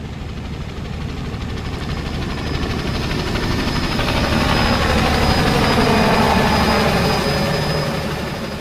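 Helicopter hovering over a Christmas tree field to lift bundled trees, a loud, continuous turbine whine and rotor roar that slowly swells and then eases slightly, close by with no voices.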